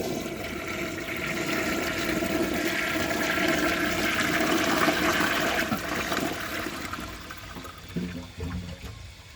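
A 1969 American Standard Madera toilet flushes a washcloth down, one loud continuous rush of water that swirls steadily for several seconds, then thins into a trickle and gurgle as the bowl refills, alone with no talk.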